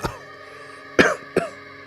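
Three short, sharp coughs, close by: one, then a pause, then two more in quick succession.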